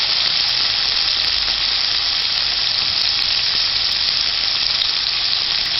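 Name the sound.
onions and tomatoes sautéing in a pan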